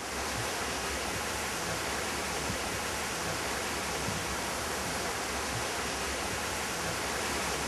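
Trillium Falls, a mossy-rocked waterfall under big leaf maples in Redwood National Park, pours in a loud, steady, broadband rush of cascading water with no pauses.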